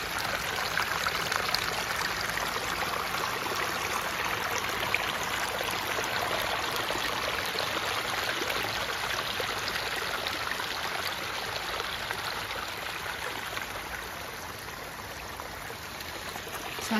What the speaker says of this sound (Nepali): हेर्नु त यो खोला